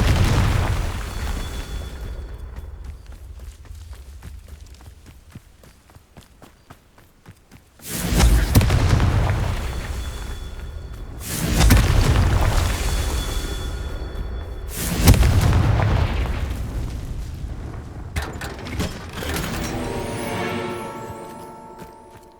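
Confringo blasting-spell explosions in Hogwarts Legacy: three big booming blasts a few seconds apart, each one loud and rumbling before it decays, after a quieter stretch and followed by a fainter crackling tail.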